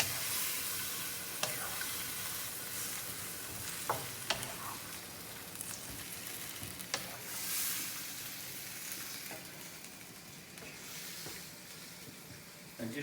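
Chicken with drained artichoke hearts sizzling and frying in a pan, a steady crackling hiss with occasional stirring clicks, close and moderately loud with no talk.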